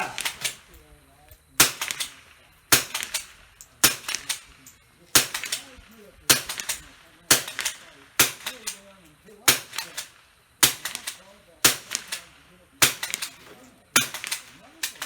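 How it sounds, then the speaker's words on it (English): Thirteen sharp .22 military trainer rifle shots ring out at a steady pace of roughly one per second at an outdoor range shoot, each crisp crack followed by a brief decay, with faint voices murmuring between shots. "So I got 13 shots off. There was a dry fire at the end, so I could have got 14."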